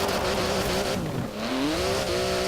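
Porsche 959 rally raid car in Forza Horizon 4 races hard, its engine droning loudly and steadily, dipping briefly as revs fall then climbing again, with tire squeal mixed in and no talk.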